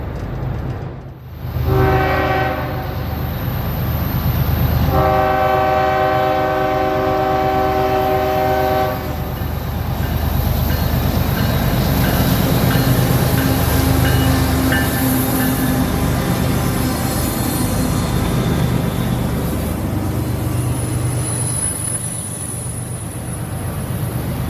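A CSX intermodal freight train led by three locomotives, one a Western Maryland heritage unit, sounds its horn in long blasts, then rumbles loudly past close by with a steady roar of wheels and railcars.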